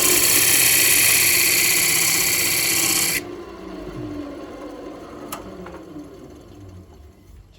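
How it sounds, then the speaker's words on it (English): A parting tool cuts a reference mark into a spinning monkey pod wood blank on a lathe, a loud harsh scraping hiss for about three seconds that cuts off abruptly, leaving the lathe's lower running hum. "take my parting knife and just kind of give myself a reference mark here"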